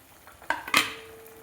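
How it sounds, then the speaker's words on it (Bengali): Mung dal fritters are dropped one by one into a simmering pot of water, making a few quick, close clinks and clatters against a quiet, faintly bubbling background. "এই দেখুন এবার এক এক করে বড়াটা দিয়ে দিচ্ছি।"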